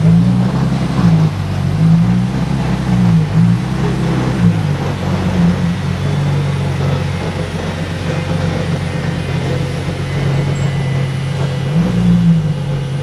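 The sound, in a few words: Ferrari car engine at night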